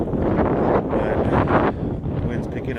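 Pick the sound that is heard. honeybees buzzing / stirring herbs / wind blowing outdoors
wind blowing outdoors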